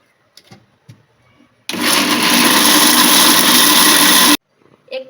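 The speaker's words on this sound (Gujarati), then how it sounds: "હવે આ ભૂકો ઠંડો થઈ ગયો છે, તો આપણે એને મિક્સરમાં એનો ભૂકો કરી લઈશું." A kitchen mixer grinder pulverises cooled churma for Kathiawadi-style laddoos, a loud steady whirring roar lasting under three seconds, starting and stopping abruptly between quieter moments.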